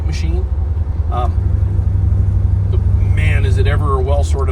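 A 1951 GMC 100 pickup with a pro-built 500-horsepower 468 engine and power steering cruises along, its deep, steady engine rumble loud and close while people talk over it.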